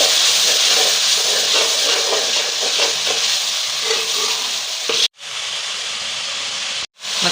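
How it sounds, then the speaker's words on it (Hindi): Spices for tinda sabzi sizzle and roast in a hot pan with oil, a loud, steady hiss with faint crackles running throughout, broken by two brief gaps of near silence. "अब हम इसमें मसाले सारे ऐड कर लेंगे और इसे अच्छी तरह से भून लेंगे।"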